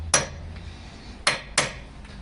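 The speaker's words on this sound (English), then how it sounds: "And get a small hammer just to start it. And I'm going to put that on here and tap it on." A small hammer taps a socket onto a locked lug nut on a car wheel, making three crisp metallic knocks, one early and two close together near the end, with faint clinks between them.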